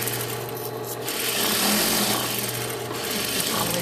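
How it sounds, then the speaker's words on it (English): A serger sews the seam of a custom pillowcase, a continuous close mechanical whir with fabric rubbing, steady and fairly loud on its own. "I would go and serge these two together"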